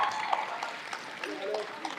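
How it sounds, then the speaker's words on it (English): Audience applause at a film trailer launch event in India welcoming the guests, a brief burst of clapping with crowd noise under it and voices mixed in. "give them a round of applause and welcome them"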